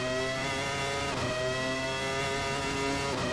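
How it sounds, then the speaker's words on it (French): A 1997 Formula One race car engine in the Assetto Corsa racing game roars loud and close, a sustained high-revving whine whose pitch climbs and dips through gear changes, with no talk over it. "Le son de la voiture est gigantesque"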